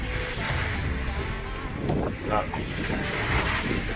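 Blustery wind gusting around 30 knots on a sailing boat at sea, a steady rushing roar buffeting the microphone, with waves and faint voices mixed underneath.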